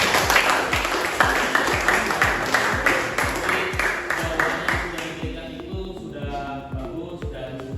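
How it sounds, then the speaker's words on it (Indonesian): A class applauds group 2 in an Indonesian teacher-training session, with steady clapping for about five seconds that thins out toward the end, layered over a rhythmic low thumping beat. "kasih applause buat kelompok 2 ya"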